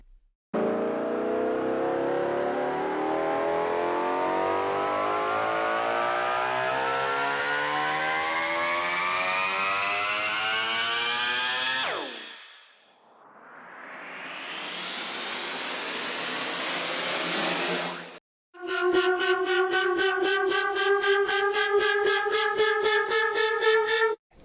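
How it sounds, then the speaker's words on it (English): Music-production riser effects: a long tonal sweep climbs steadily in pitch and brightness, then falls off. A second noisy whoosh swells upward and cuts off, followed by a loud pulsing, buzzy synth tone. All are loud and upfront, with no voices. "Let's look at some riser examples."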